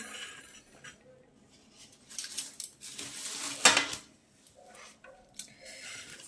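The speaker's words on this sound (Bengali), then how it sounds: "বটিতেই কাটছি।" Potatoes being cut on a boti, the floor-mounted curved kitchen blade, in a home kitchen, heard as scattered scraping clinks and knocks of metal, busiest near the middle, close by and with no voices.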